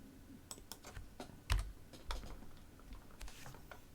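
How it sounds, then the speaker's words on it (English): Typing on a computer keyboard, Hangul characters entered in bursts of quiet, close clicking keystrokes with irregular rhythm and short pauses, no voices. "I go in here and I type in the Hangul"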